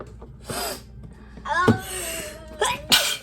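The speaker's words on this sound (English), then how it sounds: "You sneezed on me." A sharp nearby sneeze bursts out with a gasping intake, followed by more sneezy snorts and brief vocal sounds.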